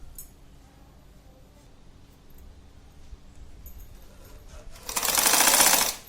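A sewing machine stitching a zipper onto cloth for a clutch purse runs in one short, loud burst of about a second near the end, after quiet handling noise.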